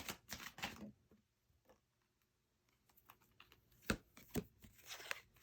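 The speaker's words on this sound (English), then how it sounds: "Cards are needing a really good shuffle." Tarot cards are shuffled in quick riffling bursts, separated by a short pause, close and crisp with papery flicks.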